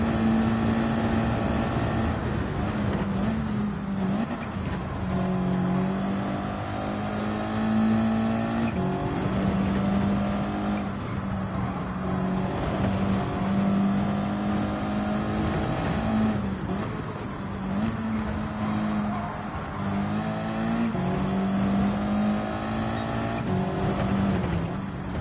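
A car engine in Gran Turismo 7 revs repeatedly during an online race, its tone climbing and dropping in rising sweeps before each shift, loud and steady throughout with no talk.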